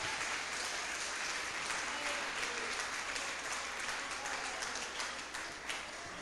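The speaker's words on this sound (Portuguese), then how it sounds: "sauda ao Senhor com as palmas bem alegres para Jesus" A church congregation at a family service claps joyfully for Jesus, a continuous, fairly distant wash of many hands with faint voices mixed in.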